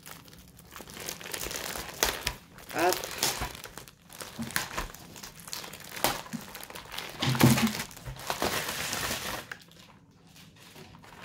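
Plastic and paper packaging crinkles and rustles as a parcel is unwrapped close by, in irregular bursts of crumpling and tearing with brief pauses, and a single short spoken word.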